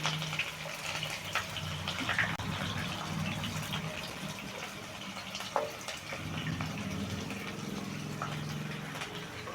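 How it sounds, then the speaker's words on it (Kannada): Onions frying in oil for mutton pepper fry, a steady, soft hiss and sizzle that runs throughout at low volume with no talking. "ಈರುಳ್ಳಿನ ಚೆನ್ನಾಗಿ ಎಣ್ಣೆಯಲ್ಲಿ ಫ್ರೈ ಮಾಡ್ಕೋಬೇಕು"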